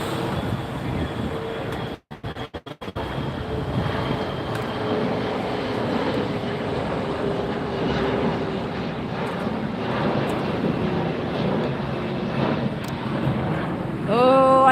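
A Condor Airbus A330-900 jet arriving at LAX from Frankfurt, heard as a steady, broad engine roar at a distance that holds throughout, with a brief dropout early on and a rising swell near the end.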